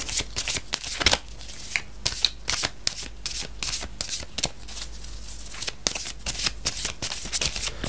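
Tarot cards are shuffled by hand at close range, a continuous run of quick riffling flicks and soft papery slaps with no one speaking.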